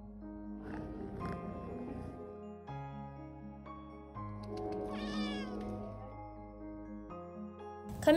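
Cats meow repeatedly in a cat cafe housing dozens of cats. The cries are clear and drawn-out, rising and falling over steady background music.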